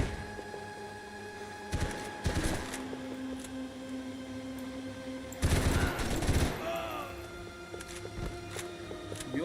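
Bursts of automatic gunfire from the Max Payne 3 video game erupt in a few loud volleys separated by quieter stretches of in-game ambience.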